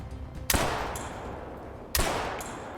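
Two loud, close hunting-rifle shots in Hunter Call of the Wild, spaced about a second and a half apart, each with a sharp crack and a long rolling echo.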